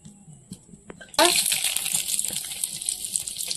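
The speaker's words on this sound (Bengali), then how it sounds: "এবার কড়াইতে তেল দিয়ে দেবো।" Oil poured into a hot kadai (wok) bursts into a loud, sustained sizzle after a second of quiet clinks, crackling on steadily to the end.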